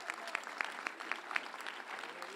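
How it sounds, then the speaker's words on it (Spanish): A church congregation claps together in a quick, even rhythm of sharp hand claps, filling the room for a few seconds without voices over it. "Denle un fuerte aplauso al Señor."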